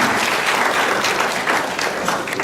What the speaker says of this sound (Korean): 힘찬 박수로 환영해 주시기 바랍니다